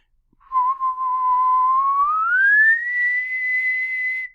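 A single clear whistled tone holds steady at about 1,000 hertz, then glides smoothly upward toward 2,000 hertz and settles on the higher note, loud and close.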